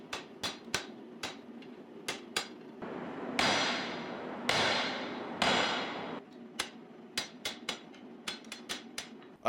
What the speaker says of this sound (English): I'll use the cutoff tool to chop the knife off of the bar.